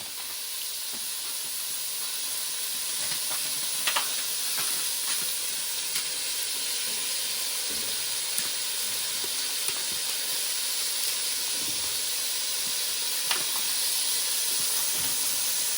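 Prawns sizzle in a hot pan with vegetables for Singapore vermicelli, giving a loud, steady, close hiss throughout with faint stirring clicks underneath.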